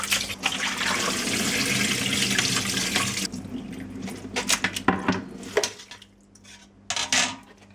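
Salted anchovies are rinsed under a running kitchen tap, with steady water rushing into a sink, then intermittent splashing and clinks of a metal bowl or dish as the flow stops and starts.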